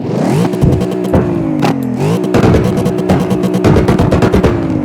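A 1036-horsepower V8 race car engine in CarX Drift Racing Online revs hard in repeated loud surges, the pitch climbing and dropping with crackling exhaust bursts between, and no talking.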